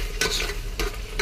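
Masala fish curry, a Tamil kuzhambu, bubbles and simmers in a pot with a steady close sizzling hiss and soft stirring scrapes across a brief moment, no voices.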